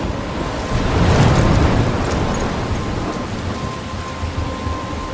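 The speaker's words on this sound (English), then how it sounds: "I'm trapped in a storm?" Heavy rain with rolling thunder in a stormy scene from the video game Life is Strange, a loud steady downpour swelling with a deep rumble early on, no voices.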